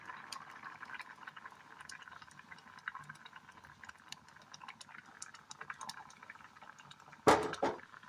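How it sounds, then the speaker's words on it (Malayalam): A pot of colocasia curry simmering on the stove, a soft, steady bubbling and faint ticking pops at low volume, ending with a brief louder clatter near the close. "ഒന്നുകൂടി ഒന്ന് തിളക്കട്ടെ"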